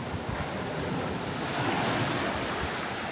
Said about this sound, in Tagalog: Hampas ng mga alon,